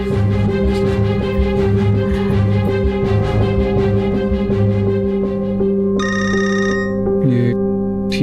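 A telephone rings with electronic ringtone bursts over a dense, tense background music bed in a domestic drama scene, the ring tones clear and fairly prominent.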